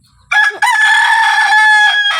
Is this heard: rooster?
yes